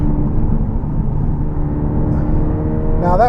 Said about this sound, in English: I really hope this exhaust is coming through on camera